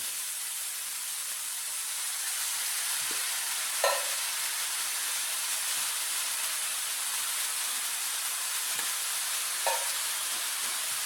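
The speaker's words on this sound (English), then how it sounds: "Now we're just going to mix it up, let it cook for about 5 minutes." Jalapenos, corn and other vegetables cook in a skillet with a steady, close hissing sizzle, broken by a few soft scrapes from stirring.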